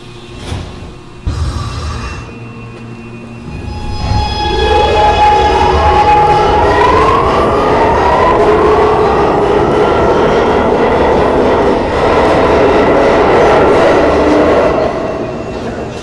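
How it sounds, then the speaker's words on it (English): A Brooklyn-bound A express subway train pulls away from 42nd Street–Port Authority Bus Terminal station with a rising whine and rumbling, growing louder and holding steady as the cars roll past nearby. "This is a Brooklyn-bound A express train."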